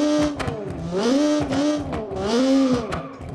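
A high-revving engine for a kei truck, built in a physics-based engine simulator game, rises and falls in repeated throttle blips, its buzzy tone climbing and dropping about three times.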